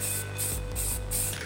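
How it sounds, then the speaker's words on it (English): A can of black spray paint hisses in four short, evenly spaced bursts close by, with a low steady hum underneath. "so I'm gonna spray this side black now."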